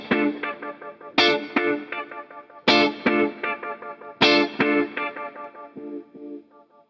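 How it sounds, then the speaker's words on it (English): A Beetronics BeeBeeDee delay pedal set to octave-up, pitch-modulated repeats follows struck guitar chords with a cascade of shimmering echoes a step higher, each chord's trail thinning out between strikes, loud and up close with no voice. "We have some of those repeats an octave up."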